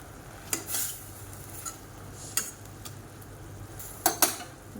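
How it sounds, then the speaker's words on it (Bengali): Metal spatula scraping and stirring okra and greens in a pan over a faint steady sizzle, with a few sharp scrapes at uneven intervals. "একদিকে বসিয়েছি ঢেঁড়সের ঝাল আর এদিকে শাক ভাজা"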